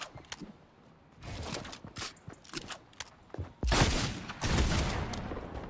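A double-barrel shotgun fires in Fortnite: sharp, loud reports come in irregular bursts, heaviest toward the end, mixed with quieter game clatter and footsteps.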